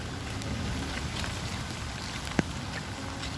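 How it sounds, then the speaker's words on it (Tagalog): Steady rain falling over an outdoor cemetery, a soft continuous hiss with one sharp drip or tap partway through. "Kahit umuulan"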